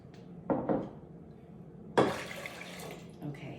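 Filtered water splashes over groats in a bowl in several short, close pouring bursts with small clinks of a container, and a faint voice sounds in the background.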